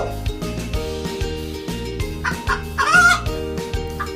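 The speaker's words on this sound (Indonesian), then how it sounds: "ayam, Ayam." A chicken clucks and squawks in a short burst near the end, set over a bouncy, repetitive children's music beat that runs throughout.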